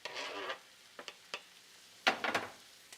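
Vegetables sautéing in a pan, a quiet sizzle broken by short bursts of stirring and scraping, with a louder cluster of frying noise near the end and no talking.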